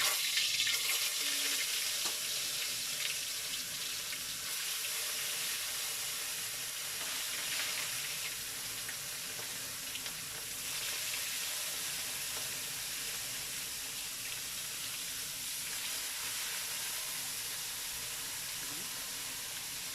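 Mayamaya fish frying in hot oil gives a steady, close, bright sizzling hiss that lasts throughout, with faint voices now and then.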